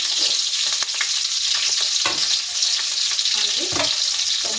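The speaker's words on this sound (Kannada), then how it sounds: "ಈರುಳ್ಳಿ ಹಾಕ್ತಿದ್ದೀನಿ ಹಾಗೆ ಮೆಣಸಿನ್ಕಾಯಿ ಹಾಗೆ ಬೆಳ್ಳುಳ್ಳಿ ಹಾಕ್ತೀನಿ" Onion, green chili and garlic frying in a pan, a steady close sizzle with stirring scrapes and occasional utensil clinks throughout.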